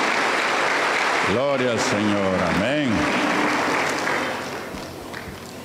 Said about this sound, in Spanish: Un fuerte aplauso para el Señor